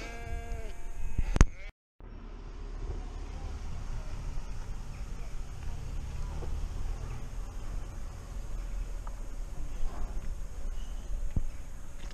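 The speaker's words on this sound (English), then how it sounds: "See, sheep's laughing at me." A sheep bleats in open countryside at Winnats Pass, a single call among wavering bleats near the start over a steady wind-blown outdoor background, with no talking.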